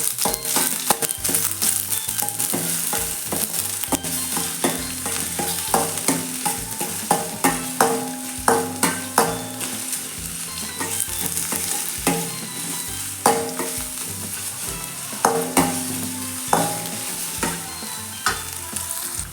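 Onion frying in a pan for mushroom masala and being stirred, with steady sizzling and repeated close scraping strokes of a spoon against the pan throughout, no voices.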